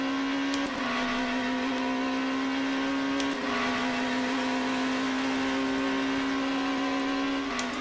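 Race car engine in the GTR2 racing sim at Silverstone with a full field of cars, a steady, loud high-revving drone holding one pitch with brief dips at gear changes and faint clicks.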